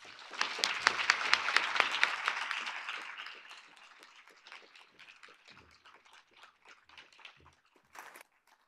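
Audience at a feminist theory workshop at Duke applauding to welcome keynote speaker Dr. Kim Tallbear: a burst of crowd clapping that peaks early, then thins out into scattered claps and footsteps before fading.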